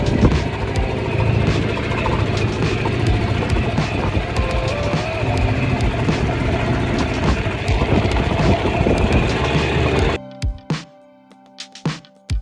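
Close, loud rumble of a small transfer boat's outboard engine with water splashing and wind near Tayrona National Park, Colombia, cutting off abruptly near the end, leaving scattered knocks.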